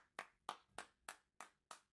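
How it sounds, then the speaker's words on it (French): Six sharp hand claps land in a steady, evenly spaced rhythm, close and crisp, with short silences between them and no voices. "Les gars, on applaudit."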